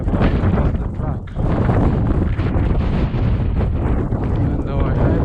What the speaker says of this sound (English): due to that blowing wind and blowing snow, it's like I've lost the track.